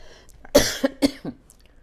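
A few sharp coughs close to the microphone, two or three quick bursts in a row, with quiet between them.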